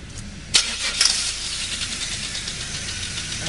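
A car engine cranks and starts with one fuel injector disconnected, giving a brief burst of cranking that falls into a rough, fairly faint running noise.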